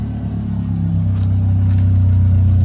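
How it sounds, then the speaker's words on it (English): A Honda Civic's D16 engine starts and settles into a loud, steady low rumble that builds slightly and holds close by, with no talking. "As y'all can hear, this is us starting it up."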